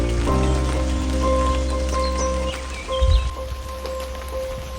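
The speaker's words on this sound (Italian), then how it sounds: "continua a diluviare" Heavy rain pours down steadily on a coastal walking route to Finisterre on the Portuguese Camino de Santiago, a dense constant patter with a low steady hum underneath and a brief louder thump partway through.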